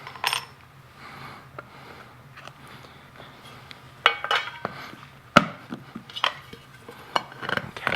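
A plastic rock tumbler barrel lid being pounded shut by fist: several sharp, loud knocks in the second half, over a low background hum with small clinks between them.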